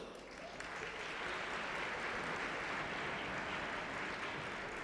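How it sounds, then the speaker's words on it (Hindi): Faint, thin audience applause in the central hall of India's parliament, a steady wash of clapping that swells slightly after the first second and holds evenly, sounding distant and subdued. "कहते हैं जब युवा शक्ति होती है तो तालियों की गूंज बहुत ऊंची होती है, पर ये तो बहुत फीकी थी।"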